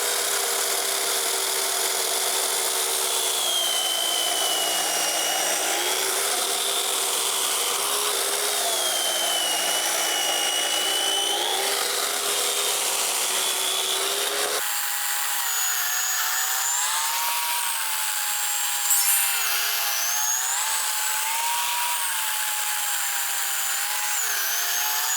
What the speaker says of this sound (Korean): 제가 측면에 여기 스파이크를 이용해서 지렛대 원리로 나무를 위아래로 잘라 보았는데요